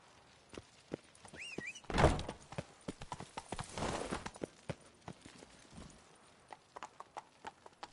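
Horse hooves clip-clopping in the video game Witcher 3, a steady, close rhythm of hoof strikes with a heavier thud and rustle partway through. There is no talking.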